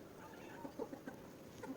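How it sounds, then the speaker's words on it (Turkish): Chickens cluck softly nearby in a few short, scattered bursts against quiet background noise. "Siyah tavuklarımız."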